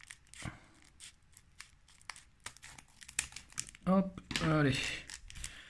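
Pokémon card booster packs from the Règne de glace set being cut open several at a time, producing sharp snips and crinkling foil, ending in a louder burst of tearing and rustling, with brief speech in between.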